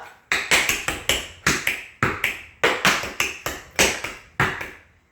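Tap shoes rattle out a quick, steady run of slaps, heels, drags and knocks. About a dozen crisp, bright strikes land in a regular rhythm, each ringing briefly and alone with no talking.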